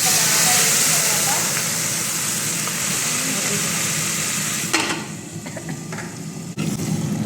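Onions, green chillies and curry leaves fry in hot tempering oil with a steady, loud hiss and crackle that eases after about five seconds, leaving lighter sputters.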